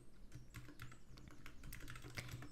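Someone types on a computer keyboard while writing a game review, a faint, steady run of quick key clicks with no talk.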